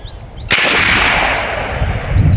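A sharp, loud crack from a B&W Bin Tac S45 air rifle firing a pellet at an outdoor 100-yard range, followed by a lingering rumbling decay and wind noise.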